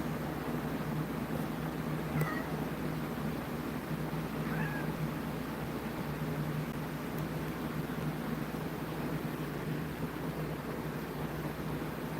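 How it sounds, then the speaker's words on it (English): A cat meows softly near a table, two faint, brief cries rising above a steady, constant hum. "I think the cat's trying to jump up on the table."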